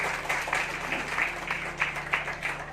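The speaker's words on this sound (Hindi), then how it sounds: "2000 की मेरी ताली होनी चाहिए यार।" An audience at an AWPL business-plan seminar claps steadily, a dense patter of many hands with scattered sharper claps, moderately loud and continuous for a few seconds.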